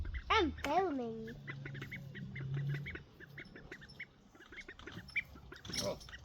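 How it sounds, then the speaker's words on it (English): Ducklings swimming in a swimming pool give a few high, wavering peeps close by near the start, then quieter scattered chirps and splashy background noise follow. "Ducks in the pool."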